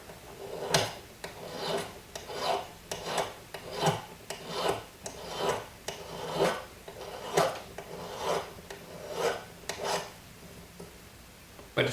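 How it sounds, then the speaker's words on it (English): Hand file rasping along the edge of a jewelry sword pendant, a steady run of about a dozen close, evenly spaced scraping strokes with short pauses between them, heard alone. "Just by filing it away carefully, keeping my rounded edge."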